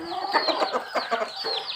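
Chickens cluck in a quick, close run of short calls, several overlapping bursts with no voices.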